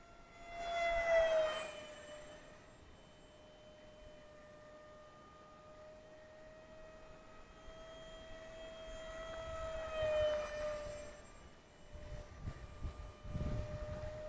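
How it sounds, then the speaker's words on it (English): An electric ducted fan jet, a Zeta Ultra-Z Blaze Jet with a 790mm wingspan, flies in gusty wind, its steady high whine swelling loud as it passes near at the start and again around ten seconds, easing between passes. "This is a pretty nice flying EDF jet"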